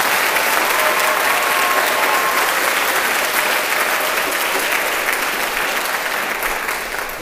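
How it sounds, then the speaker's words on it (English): Sustained audience applause at a choir cabaret concert, dense steady clapping from a large crowd that stays loud before easing off slightly at the end. "Can we give them a round of applause for the state?"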